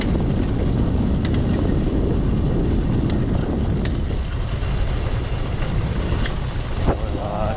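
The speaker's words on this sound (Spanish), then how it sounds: "Estamos explorando en moto Minca." Motorcycle ride through Minca, Colombia at sunset, a steady broadband engine and wind rumble running loud and continuous throughout with slight shifts in tone, close to the rider.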